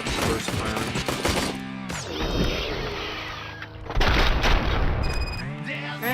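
Tech 9 gunfire rattles in the video game Robocop: Rogue City, with rapid bursts and booming impacts layered over game sounds and a talking voice.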